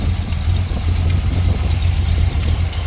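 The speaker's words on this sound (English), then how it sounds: "Sounds like there might be a slight exhaust leak." A 1981 Corvette with a small block Chevy 350, Quadrajet carburetor and headers idling with a slight exhaust leak, a loud, steady low rumble close up with a faint ticking throughout.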